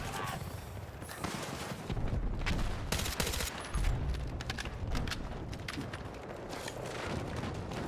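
Rapid bursts of Battlefield 6 video-game gunfire crackle continuously, dense and loud, with occasional heavier booms mixed in.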